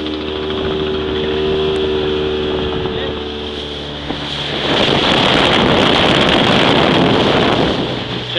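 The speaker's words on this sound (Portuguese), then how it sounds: "Nós passeando de barco." A motorboat heading to Boipeba island drones steadily with engine hum, then surges into loud rushing water and wind buffeting the microphone as it speeds up, with voices talking faintly over it.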